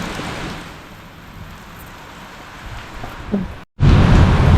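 Steady rain hiss with low rumbling, likely distant thunder, during a storm that knocked out the power; a brief dropout is followed by louder, closer downpour noise.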